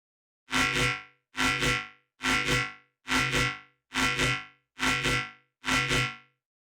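Seven evenly spaced bursts of a buzzy synth bass tone, each pulsing rapidly inside from a fast 1/8-rate LFO, separated by brief silences; close and moderately loud.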